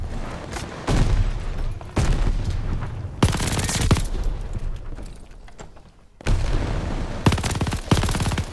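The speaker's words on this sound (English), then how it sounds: "Tossing grenade!" A grenade blast and gunfire in Call of Duty: Vanguard hit in sharp, loud bursts. Rapid automatic fire and heavy thuds alternate with short lulls before another burst.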